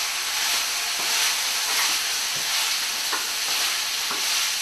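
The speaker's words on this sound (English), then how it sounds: "we'll just stir that in a little bit" Tofu stirred into a hot frying pan with zucchini, tomato and spices: a steady, loud sizzle and hiss throughout, with soft scraping strokes of the utensil marking the stirring at irregular intervals.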